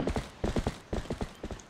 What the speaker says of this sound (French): On va faire galoper un petit peu le cheval.